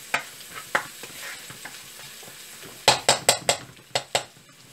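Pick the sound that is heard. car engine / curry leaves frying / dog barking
curry leaves frying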